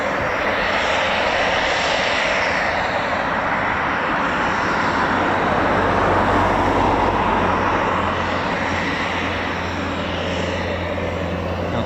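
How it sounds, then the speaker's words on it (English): Eurofighter Typhoon FGR4 jet engines run at an RAF station, a continuous broad roar with a low steady hum underneath, holding at a constant loud level throughout. "You can still hear Typhoons running, so hopefully they'll amount to departures."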